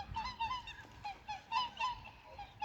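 Ducks calling at a pond in Japan, a run of repeated nasal honking quacks from several birds close by, coming in uneven bursts with short gaps and no talk.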